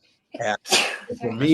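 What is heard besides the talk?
sneeze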